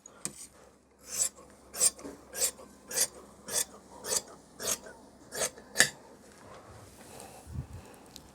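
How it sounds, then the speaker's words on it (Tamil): Scissors cutting pant fabric along marked lines make about ten regular rasping snips, close and crisp, with a brief pause before a soft thud at the end; no one speaks. "நாம் இப்போ இதை வந்து கட் பண்ணிடலாம்"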